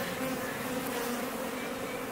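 Honey bees drone in a steady, dense buzz from an open, overflowing hive being worked during a split, a continuous close hum with no talking.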